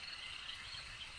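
Frogs croaking around a swamp, with insects chirring alongside, a dense steady chorus that fills the whole short stretch with no talk over it.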